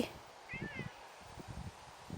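Faint and fairly distant, a cat in a backyard vegetable garden gives a single short meow while someone talks nearby.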